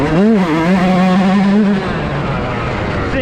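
Yamaha YZ125 two-stroke race engine on a dirt bike revving hard, a loud rising and falling rasp that climbs in pitch then settles into a steady high drone, close by and alone.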